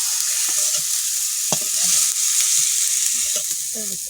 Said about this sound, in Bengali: টমেটোটা ভেজে নিলাম